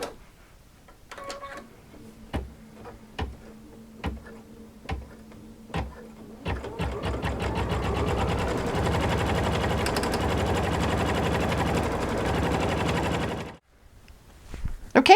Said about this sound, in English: let's let it stitch out the Christmas trees.